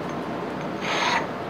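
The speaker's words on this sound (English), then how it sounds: "I'm going to drag the edges along this carborundum stone and get off all the burrs" Edges of a metal tapping block dragged along a carborundum stone to take off burrs, a steady close rasping scrape that grows louder and brighter toward the end of the short stroke.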